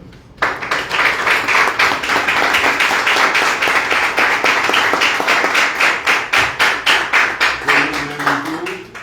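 Loud, sustained crowd applause at a Haitian community gathering at the Haitian Embassy in the Bahamas, dense clapping that holds steady for several seconds and then thins into separate claps near the end.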